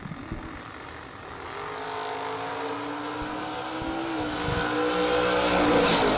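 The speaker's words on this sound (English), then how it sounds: "A couple of wheelie poppin' S10s coming up here." Chevrolet S10 trucks drag racing with wheelie launches, engines rising in a loud, sustained roar with tire squeal as they pull away, heard from the track side at a Christmas drag racing event.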